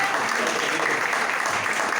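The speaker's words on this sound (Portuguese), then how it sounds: "Vamos aplaudir ao Senhor bem forte." A church congregation claps loudly and continuously, a dense crackling wash of applause filling the hall for a couple of seconds with no clear voices.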